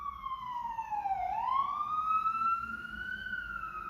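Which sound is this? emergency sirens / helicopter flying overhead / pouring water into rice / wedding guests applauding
emergency sirens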